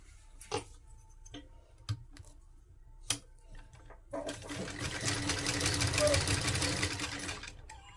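A sewing machine stitches a salwar: a few isolated clicks and taps first, then a steady fast whirring run of stitching that builds and holds, fairly quiet.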